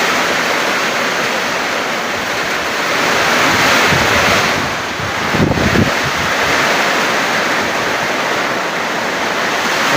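Strong gusty wind drives heavy rain into a loud, dense roar. The noise surges mid-way with a brief buffeting rumble, then settles back to a steady downpour, with no voices.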